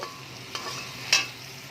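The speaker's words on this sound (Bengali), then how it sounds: "এবার পেঁয়াজটা একটুখানি লাল লাল করে ভেজে নেব" Onions fry in hot oil with a steady low sizzle, broken by two quick spatula clicks against the pan, close and brief with no talk.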